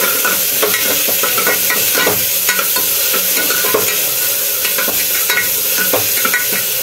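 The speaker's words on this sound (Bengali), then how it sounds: "এবার নেড়ে ছেড়ে একটু জল দিয়ে দেবো" Chickpeas seasoned with salt and turmeric are stirred in a pan, a steady close sizzle with repeated spoon scrapes and clinks running throughout.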